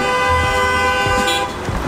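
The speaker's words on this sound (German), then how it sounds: "hier hupt man richtig gerne" Car horns honk over a dense roar of New York City street traffic, several overlapping toots blaring continuously from nearby vehicles with engine rumble underneath.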